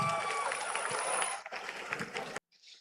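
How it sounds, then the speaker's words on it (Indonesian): An audience at a talk event on AI and humanity breaks into a dense, steady burst of applause that cuts off abruptly, leaving a brief faint tail. "Tepuk tangan dulu"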